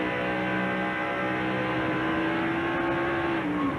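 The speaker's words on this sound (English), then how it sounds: "You could hear the RPMs that really get up there as the back started around on Benson's car." A NASCAR stock car engine at the 2000 DirecTV 500 in Texas screams at high RPM as the car loses its rear end and spins, a loud sustained whine climbing in pitch with no talk over it.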